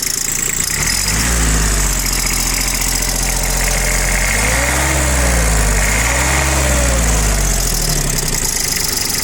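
A small three-cylinder engine on a Kubota Aste A17 mini tractor runs steadily at idle, a low chugging drone with a slight rise and fall in pitch partway through, close and continuous.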